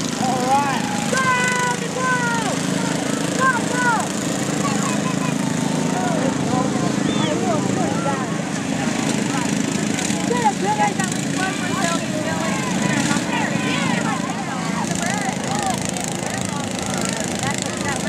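Lawn mower engines drone steadily at a redneck lawn mower derby, a continuous rough motor roar lasting throughout, with crowd chatter and shouting voices layered over it.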